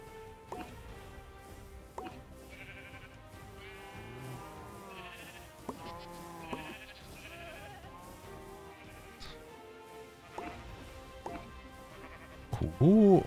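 Minecraft sheep bleat in short wavering cries, several spaced through a quiet farm scene with other game noises, while someone speaks in German over them.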